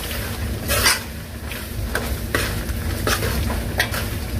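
Shrimp fry in oil in a pan while being cooked for duri jardinier. A steady close sizzle runs under repeated scraping and stirring strokes against the pan, and nobody speaks.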